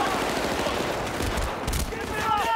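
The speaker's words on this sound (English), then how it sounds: "I'm just getting shot from everywhere at this point" Rapid gunfire and explosions crackle in the Battlefield Bad Company game, dense overlapping shots with low booms in a loud continuous barrage.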